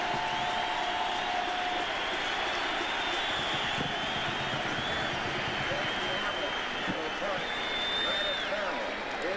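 A home crowd of more than 60,000 applauds at a rainy 1988 college football game between West Virginia and Maryland. The steady, distant stadium roar of clapping and crowd noise carries throughout, with a voice faintly over it.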